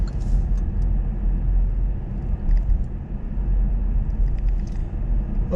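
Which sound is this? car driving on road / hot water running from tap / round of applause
car driving on road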